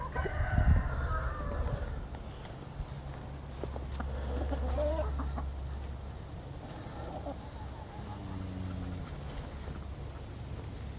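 Chickens cluck and a rooster crows on a farm, moderately close, with a low engine-like hum partway through and occasional background voices.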